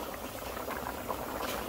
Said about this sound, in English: As you can see, the curry is boiling nice.